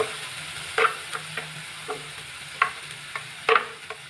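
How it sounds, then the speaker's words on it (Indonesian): Ground spice paste for spicy chicken feet cooks in oil in a pan, with a low steady sizzle broken by sharp scrapes and taps of a spatula stirring at irregular intervals. "masukkan semua bumbu halus lalu tumis hingga tanak ya"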